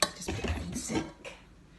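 Dishes and cutlery clatter into a kitchen sink in a few quick, close knocks and scrapes, with no talking.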